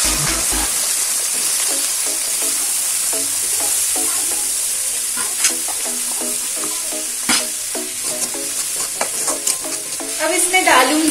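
Potatoes, green chili, onion and raw tomato frying in hot oil, a steady loud sizzle throughout with scattered clinks and scrapes of stirring, no talking.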